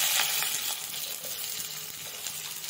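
Onion frying in hot oil with garlic and cumin for a spinach and mixed dal dish, a steady close sizzle with faint stirring clicks running throughout, no talking.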